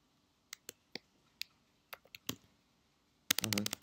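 Keys click one at a time as a formula is typed on a computer keyboard, quiet and sparse at first, then ending in a quick, louder cluster of strokes.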